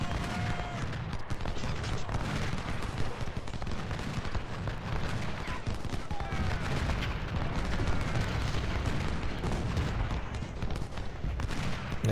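Massed musket volleys and artillery from the Ultimate General: Civil War game merge into a continuous crackling, rumbling battle din with scattered louder reports, heard alone for about twelve seconds.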